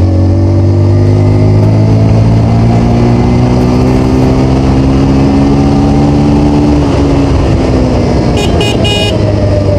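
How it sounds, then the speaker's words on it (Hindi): A 2023 Bajaj Pulsar 125 E20 fuel-injected motorcycle engine revs up close and loud, its pitch climbing steadily toward redline before dropping back, with a short horn toot near the end. "देख सकते हैं आप तुरंत रेड लाइन पकड़ ले रही है गाड़ी।"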